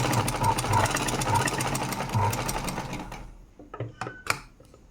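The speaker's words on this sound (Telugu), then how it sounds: "నేను స్టిచ్ చేస్తున్నాను." A sewing machine runs steadily, stitching gathers into fabric with a close, continuous mechanical whir that stops about two-thirds of the way through, followed by a few soft handling clicks and rustles.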